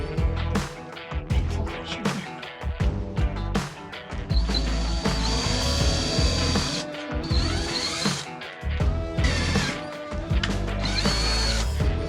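A power drill drives screws into the wooden wall of a tack shed at a horse shelter, whirring in repeated bursts with brief pauses and ratcheting, fairly loud and close throughout.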